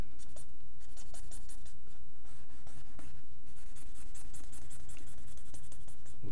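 A sketch is drawn by hand, with a pencil scratching and stroking across paper continuously in quick, irregular strokes, close and clear with no talking.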